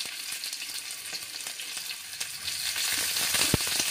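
Green chili and onion frying in white oil in a kadai for semolina upma, a steady close sizzle with a few stirring clicks and one sharp knock near the end, no talking.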